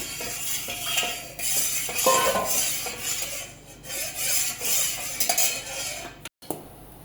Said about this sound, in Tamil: அதை அப்படியே எடுத்து இதில் போட்டு நல்லா மிக்ஸ் பண்ணி விட்டுக்கலாம்